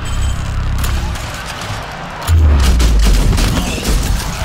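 Gunfire from the turn-based tactical game Showgunners: a dense burst of rapid shots with low booming impacts, loud and close, continuing for several seconds with a heavier thump midway.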